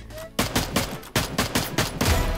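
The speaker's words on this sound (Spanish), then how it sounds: "Disparo." A rapid burst of Free Fire gunfire, repeated shots cracking in quick succession over a couple of seconds, loud and close.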